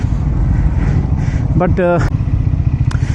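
A Triumph Scrambler 400X motorcycle riding through city traffic, its engine rumbling steadily under wind noise, while a rider briefly speaks over it.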